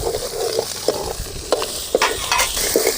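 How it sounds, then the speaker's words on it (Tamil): Onions fry in a pan for pudina chutney, a steady sizzle broken by repeated scraping stirs at an uneven rhythm, close and fairly loud, with no talk. "நல்ல வெங்காயம் சிவக்க வறுக்கணும்."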